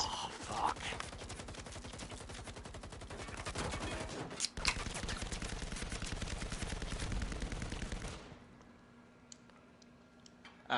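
Rapid automatic gunfire from the video game Firewall Zero Hour, a dense rattling burst that runs for several seconds, breaks once, resumes, then stops abruptly, leaving quieter clicks and faint game ambience behind.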